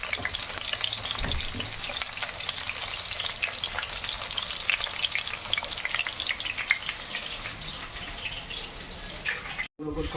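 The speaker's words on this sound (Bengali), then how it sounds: "এই আলুগুলো ফ্রাই করে নিচ্ছি" Potatoes fry in hot oil with a dense, continuous sizzle and bubbling crackle, a few scraping stirs mixed in, staying loud and close until a brief cut near the end.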